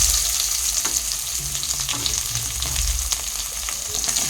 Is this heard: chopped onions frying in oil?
yes